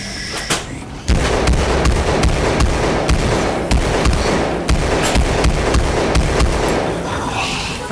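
Rapid bursts of video game gunfire blast at zombies on the Carrier map of Call of Duty Advanced Warfare's Supremacy zombies mode, with loud, dense shots and heavy booms repeating almost without pause.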